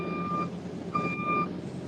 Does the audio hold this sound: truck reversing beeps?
yes